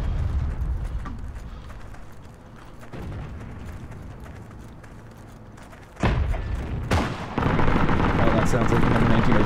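Heavy booming gunfire and thudding blasts in the World War II shooter Heroes & Generals, including M1903 Springfield rifle fire, loud bursts near the end over rumbling battlefield ambience, with a player talking in places.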